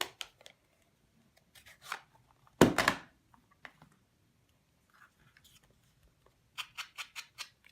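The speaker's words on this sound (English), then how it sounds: "I'm going to sponge these guys" A sponge dabs ink onto small punched paper circles for a handmade card: soft, scratchy scrubbing strokes in short irregular bursts, with a quick run of rhythmic dabs near the end.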